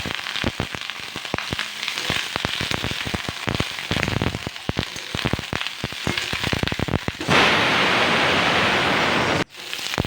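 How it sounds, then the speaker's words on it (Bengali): Cauliflower florets crackle and spatter in hot oil in a kadai, a dense run of close popping that settles into a broad, steady hiss near the end. "ফুলকপিগুলিকে ভালো করে এখন লাল লাল করে একটা বাদামি কালার আসবে ততক্ষণ অবধি, সোনালি কালার হওয়া পর্যন্ত আমি এটিকে এখন ফ্রাই করে নেব 5 মিনিটের মতো"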